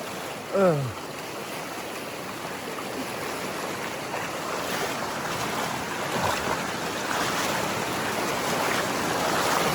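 A fast-flowing river current in the jungle makes a steady, broad rushing wash up close, continuous throughout, with a brief voice-like sound near the start.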